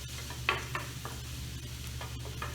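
Finely chopped shallots with a pinch of salt cooking in a pan, a faint, steady low sizzle with a few light scrapes and taps of a utensil, quiet and close, no speech.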